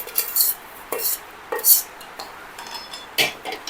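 Fried vermicelli being scooped out of a pan into another pot during shevai kheer preparation: a series of sharp metal clinks and scrapes of a spoon against cookware, close and distinct, spaced in irregular bursts with quiet pauses between.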